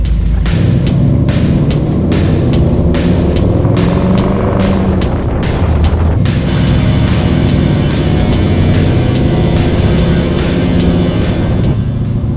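A classic car with an AOD automatic transmission, held in drive rather than overdrive, drones steadily and loudly on the road, its engine note rising and shifting partway through with a repeating ticking pulse.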